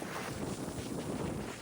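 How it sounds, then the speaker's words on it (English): Strong wind on a stormy Florida beach at Tampa, a loud, continuous roaring buffet of gusts battering the microphone, with no voices. "The wind is insane."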